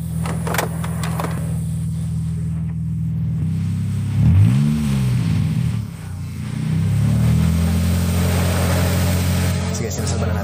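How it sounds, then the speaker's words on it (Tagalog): A stranded car's engine, its battery dead, runs and revs after a jump-start, a steady low idle rising into a couple of throttle swells, with people talking over it. "Kaya ipa-jumpstart natin to kay Sal."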